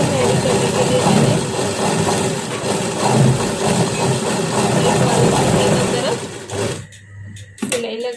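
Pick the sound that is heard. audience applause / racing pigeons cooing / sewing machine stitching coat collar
sewing machine stitching coat collar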